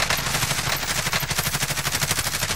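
Sustained automatic gunfire in Call of Duty Modern Warfare, a fast, even stream of loud close shots with a steady rhythm from start to finish.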